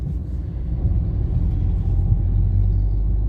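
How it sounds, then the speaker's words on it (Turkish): Peugeot 301 turbo engine revving, a steady loud low rumble that builds slightly and holds throughout, heard up close without talk. "Aynen turbo sesi de 2000 devirden sonra turboya geçiyor."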